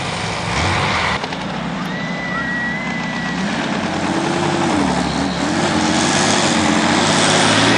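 A pulling tractor with a Rolls-Royce Meteor V12 engine roars loudly and continuously at a tractor pulling event in Haapajärvi, Finland, the engine note wavering and climbing slightly as it strains along the track.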